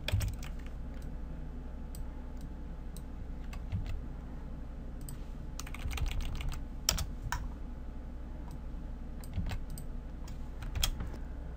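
Typing on a computer keyboard, close, fast irregular key clicks in short bursts over a low steady background hum.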